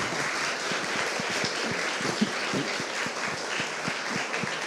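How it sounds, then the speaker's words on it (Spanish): Steady audience clapping fills a hall after a lecture on Christopher Marlowe, a continuous mid-distance patter of many hands that neither swells nor fades. "pido un aplauso isabelino"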